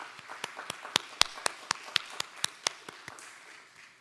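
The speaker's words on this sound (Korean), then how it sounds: "하나님께 영광의 박수 돌려드립니다." A church congregation gives a short round of applause during a worship service, heard as about a dozen sharp, evenly spaced claps that fade out near the end, fairly quiet and with no talking.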